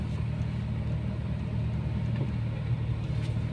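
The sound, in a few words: car pulling away as the clutch is slowly released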